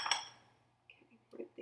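A knife works through softened butter on a butter dish, giving a few faint, sparse clinks and taps against the dish in an otherwise quiet kitchen.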